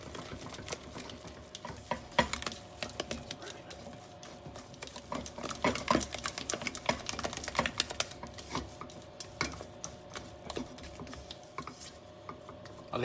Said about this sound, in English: Now you want to stir this vigorously until you get a nice choux dough